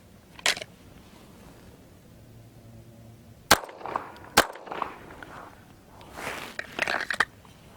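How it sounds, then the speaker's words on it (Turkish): Pistol shots fired from the holster at a small circle target during shooting practice: two sharp, loud cracks about a second apart stand alone, with faint handling clicks and rustling before and after. "kılıftan çekip küçük daireye iki atış"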